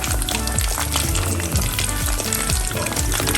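Food fries in a Galaxy 4-in-1 stainless steel cooking pot with a handle, giving a loud, dense, continuous sizzle and crackle with steady popping throughout, no voices.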